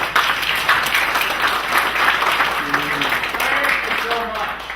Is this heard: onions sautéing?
no